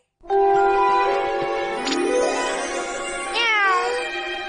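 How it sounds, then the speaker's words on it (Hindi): A cartoon cat in a Hindi-dubbed Doraemon episode meows in long, loud, close drawn-out cries with rising and falling pitch sweeps, heard alone without talking. "एक बेचारी बिल्ली है जिससे हमारी बहुत जरूरत है"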